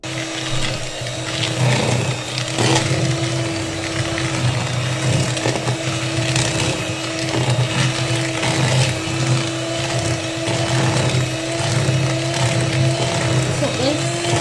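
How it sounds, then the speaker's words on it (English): Sugar being mixed into margarine for vanilla cupcake batter, giving a steady whirring, grinding mechanical hum, most likely an electric mixer, with scraping and clattering that runs continuously throughout at close range. "our first step is mixing sugar with margarine"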